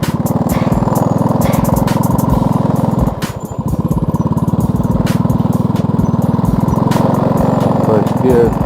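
A semi-automatic motorcycle engine revving in first gear on a flat road, a loud, steady buzzing drone with a brief dip midway, close to the listener, with someone talking over it.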